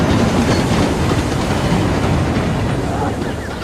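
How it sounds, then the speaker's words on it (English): Steam engines pulling a goods train downhill and slowing for a station stop, a dense continuous rolling clatter of wheels on rails that eases slightly toward the end. "James and Boko slowed the train down for the stop in Wellsworth"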